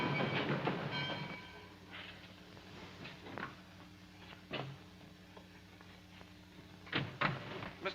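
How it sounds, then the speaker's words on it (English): A train leaving the station in a 1940s film, with rhythmic clicking and clanking of railcars that grows steadily fainter, heard alone. "But the train's leaving."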